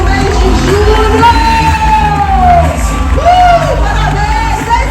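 A large crowd at a corporate sales event in São Paulo roars with loud cheering, whoops and shouts, a sustained wall of noise close up and with no break.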